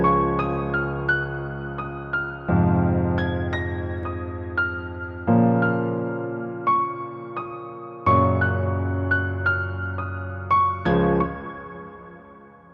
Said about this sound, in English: we're going to be working with just this very basic piano loop that I have going on